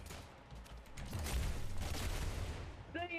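Gunfire in the video game Rounds comes as a dense, continuous rattle of rapid shots and impacts, loud and busy, with a brief electronic tone near the end.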